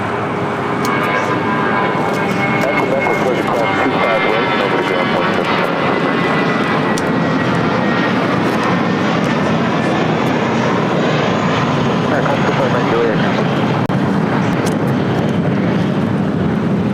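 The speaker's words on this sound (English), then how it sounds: "This is United Airlines 1185 taking off to Los Cabos on an A320." A United Airlines A320 takes off from LAX for Los Cabos, loud, close jet engine thunder with rising whining tones and gusts of wind against the microphone, sustained for the whole stretch.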